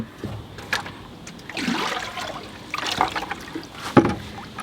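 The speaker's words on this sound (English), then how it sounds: "I'm just going to put some water in my bucket." Water splashes and gurgles into a white bucket in irregular bursts, close by, with a few sharper sloshes toward the end.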